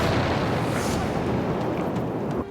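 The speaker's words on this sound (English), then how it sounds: "An earth-shattering explosion in a rocket fuel factory rocks this small desert town." A huge explosion at a rocket fuel factory in a small desert town roars as a continuous, loud, rumbling blast that churns steadily before cutting off abruptly at the end.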